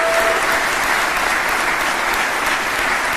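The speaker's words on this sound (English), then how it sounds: "Let's give Kirill another round of applause" Applause at a military colonel's promotion ceremony fills the whole stretch, a loud, even wash of many hands clapping together from a large audience, with no voices rising above it.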